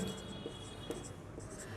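A pen scratches across paper as a math solution is written out by hand, a faint, close and continuous scratching with small strokes and no speech.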